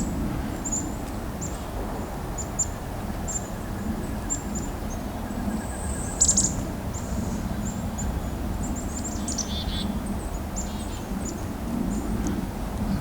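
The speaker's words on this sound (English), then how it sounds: "I'm getting fairly surrounded by chickadees here." Black-capped chickadees call in short high chirps scattered through a steady low outdoor rumble during a winter bird count, with one louder burst of calls near the middle.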